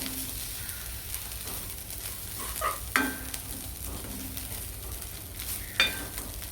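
Coriander seeds and other thuvaiyal ingredients dry-roasting in a pan, a soft steady crackle and sizzle with occasional scraping stirs and clinks of the spatula against the metal, close and moderately quiet.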